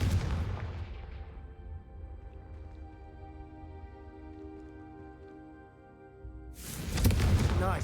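A Confringo fire spell cast in Hogwarts Legacy: a loud blast that decays into a long, ringing tonal hum, then a second heavy burst of noise near the end.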